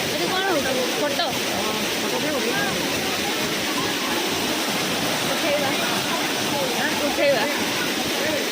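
Sanaghagara waterfall at a Keonjhar picnic spot roars steadily with loud, continuous rushing water that fills the whole clip without a break.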